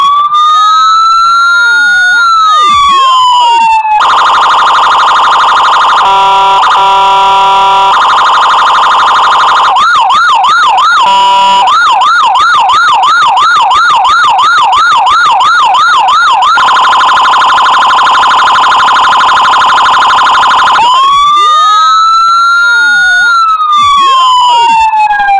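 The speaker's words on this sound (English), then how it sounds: "When you get it in person, it's going to sound just like a siren." Loud electronic siren from a custom 1:18 scale Ford Police Interceptor Utility model, cycling through several tones: sweeping wails, rapid yelps, pulsing warbles and a steady tone. The sweeping wail returns at the end.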